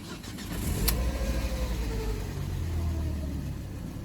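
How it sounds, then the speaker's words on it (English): A car engine is cranked and started again after stalling on its own, heard as a steady mid-level rumble with a brief sharp click near the start and a low idle that continues to the end. "I'll try and start the engine again here"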